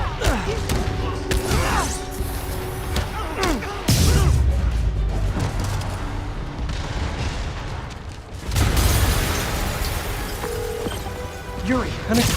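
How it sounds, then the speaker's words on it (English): Explosions boom through a Marvel's Spider-Man Remastered game scene, with two loud deep blasts rumbling amid cluttered action noise and character voices. "an explosion just..."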